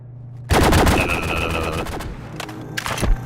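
Rapid gunfire from a weapon in the video game Fallout 4 bursts in after a half-second of quiet, a loud, dense volley with rattling echoes that thins out, then a couple of final sharp shots near the end.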